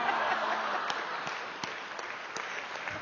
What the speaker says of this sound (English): Give her a huge round of applause for her help